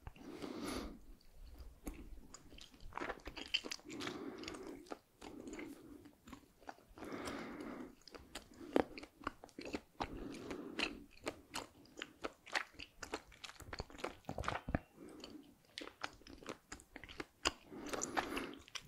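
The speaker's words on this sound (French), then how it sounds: "Je vais essayer de mâcher un chewing-gum en faisant le moins de bruit possible." Chewing gum is chewed very close as quietly as possible, giving soft, wet, irregular crunches and mouth clicks with small breaths for nearly twenty seconds, and no talking.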